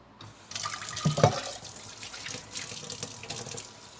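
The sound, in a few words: water running from tap while washing a saucepan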